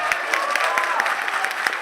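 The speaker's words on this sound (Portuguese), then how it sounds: "uma salva de palmas para Isa." An audience at a Brazilian digital influence and leadership event breaks into brief, lively applause: a dense patter of claps with a few sharper ones standing out, under a soft crowd murmur.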